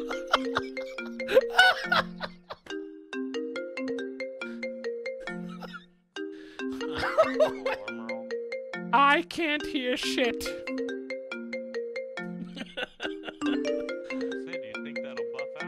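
Phone ringtone in a GTA 5 roleplay session, a loud repeating melodic chime pattern cycling over and over with brief breaks, while voices talk and laugh over it.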